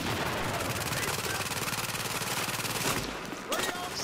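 Rapid automatic gunfire in the video game Tom Clancy's The Division, a dense rattling burst that runs steadily for about three seconds and then cuts off, with a few sharper cracks after.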